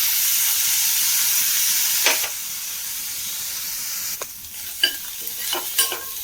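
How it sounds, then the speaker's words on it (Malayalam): Shallots, garlic, green chillies and curry leaves sizzle loudly in coconut oil for a prawn curry, a steady frying hiss with a few sharp scraping stirs of a spoon in the pan toward the end. "നന്നായി ഇളക്കി കൊടുക്കാം"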